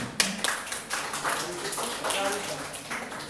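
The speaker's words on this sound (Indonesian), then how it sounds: "Sekali lagi kita berikan aplaus kepada kedua tim" An audience claps for two teams at an Indonesian-language school debate competition, a brief burst of scattered hand claps with a voice talking over it.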